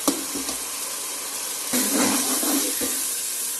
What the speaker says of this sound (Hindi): अब इसको जो है ना छोले ये चने डालेंगे हम